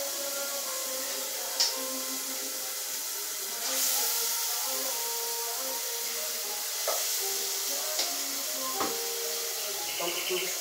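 Garlic fries in a pan with a constant, close steamy hiss and sizzle, marked by a few sharp clicks and clatters, with faint talking in the background.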